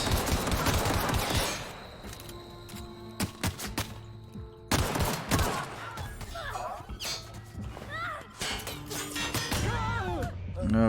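Dense gunfire from The Outer Worlds video game, with repeated rapid bursts and single shots mixed with impacts and crashes. Volume stays loud across the clip and eases briefly midway before the shooting resumes.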